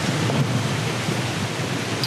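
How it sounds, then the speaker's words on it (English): Steady broadband wind buffets a microphone at a beach campground, a constant close rushing noise with no other sounds. "It's actually a fair bit of a breeze at the moment."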